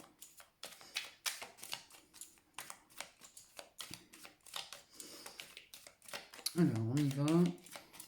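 Tarot cards being shuffled and cut, with quick papery riffles and taps running under a woman's speech in French.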